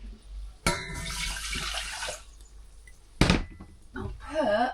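Water runs from a tap into a pot of rice on the stove, a broad rushing splash lasting over a second, then a second brief gush later, with faint voice sounds in the quieter gaps.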